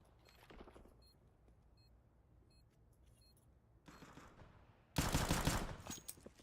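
Gunfire during a professional Counter-Strike esports match, with a faint shot early, a quieter stretch, then a loud, dense burst of several shots near the end.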